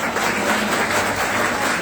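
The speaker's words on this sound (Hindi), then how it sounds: "तो अपने लिए कम क्यों बजाइए अपने ताली" Audience at an inaugural Azadi Ka Amrit Mahotsav event in Delhi applauding, a dense, loud, continuous roar of clapping from a large crowd.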